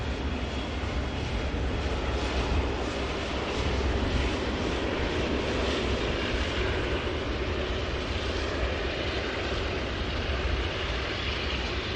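A Boeing 747 taxiing at Manchester Airport toward runway 05 left: a loud, continuous broadband jet engine roar with a low rumble, steady and sustained throughout, with no voices.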